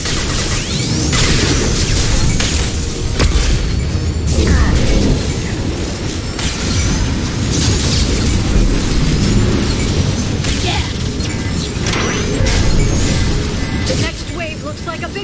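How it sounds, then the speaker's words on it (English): Booming bursts and whooshing blasts from flashbang grenades in Mass Effect 2's Lair of the Shadow Broker, loud and continuous amid combat noise, with voices talking through it. "Watch out, flashbangs!"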